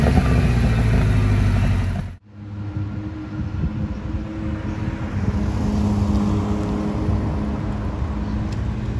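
A Ferrari 308 GTS with a 3-litre, 255-horsepower V8 and a sportier aftermarket exhaust runs steadily: loud, continuous engine roar close by, with a brief dip and cut at about two seconds before the rumble resumes.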